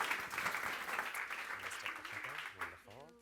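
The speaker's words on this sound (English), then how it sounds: "Another round of applause for Alex and Noel." A studio audience applauds at a morning talk show taping, moderate clapping fading out as a voice begins speaking over the tail end.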